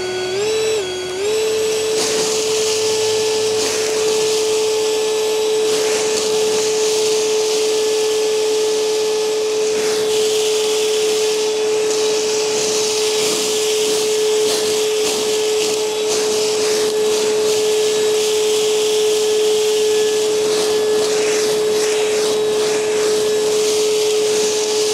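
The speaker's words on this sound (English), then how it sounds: "5800, just way more powerful on turbo than the hand blower" Echo eForce 5800 battery-powered leaf blower running steadily on turbo, a loud continuous high-pitched whine and broad rushing air that holds for the full stretch after a brief rise at the start, with no voices.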